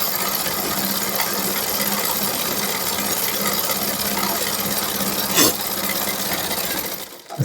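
A sewing machine runs steadily while stitching a shirt seam, giving a continuous mechanical hum and whir that holds for about seven seconds before stopping near the end.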